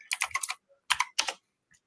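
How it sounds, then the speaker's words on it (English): Computer keyboard typed loudly in short clattering bursts of rapid keystrokes, three clusters with brief pauses between, close up and heard alone. "it's a loud keyboard."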